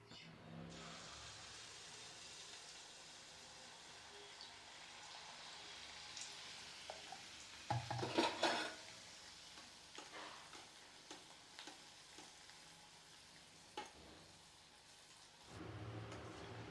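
Khandhar appam sweet batter frying in hot oil, a steady close sizzle with occasional stirring and spoon clatter, and a louder burst of bubbling when more batter goes in.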